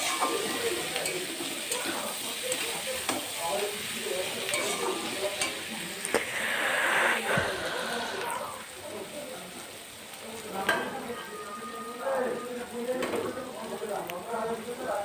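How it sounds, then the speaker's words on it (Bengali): Shredded cabbage and capsicum sizzle in a hot pan while being stirred for a vegetarian pasta, giving a steady close frying hiss broken by scraping stirs. "এবার আমি এখানে বাঁধাকপি আর ক্যাপসিকাম কোচানোটাও দিয়ে দিলাম। দিয়ে এটা ভালো করে নেড়ে চেড়ে ভেজে নিতে হবে।"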